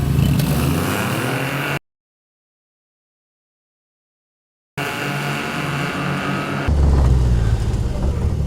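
Engine exhaust at wide open throttle fitted with a Silent Rider silencer, a steady loud drone that cuts out to silence midway, then returns with a deeper, louder surge near the end.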